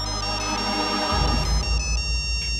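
A mobile phone rings in a horror film scene, its electronic ringtone melody playing loud and steady throughout, with no voice.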